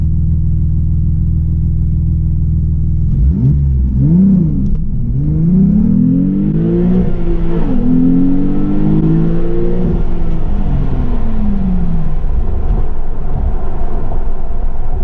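A loud Porsche 911 Carrera T engine idles, then revs up and accelerates with rising, wavering pitch during a 0-60 mph run, staying close and dominant throughout.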